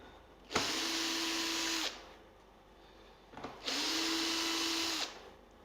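A power drill drives screws into a handmade electric guitar body in two steady whirring bursts of over a second each, close and loud, with a brief pause between them.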